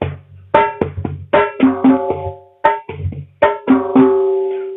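A basic beat on conga drums with sharp, resonant tonal hits and deeper open tones, played in a short repeating pattern of distinct strikes, close and dry with no talk.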